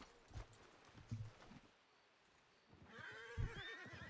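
Horses in a western video game whinny and snort in short bursts with hoof clops, then a longer neigh rises near the end, fairly faint and without talk.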